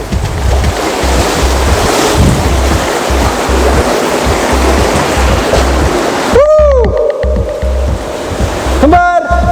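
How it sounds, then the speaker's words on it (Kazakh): Snowmelt water pours out of an old mine shaft built in 1964, a steady loud rushing roar with gusty wind buffeting the microphone, broken near the end by a couple of short electronic chirps. "Қазіргі таңда оның ішінен қардың еріген су ағып тұрады"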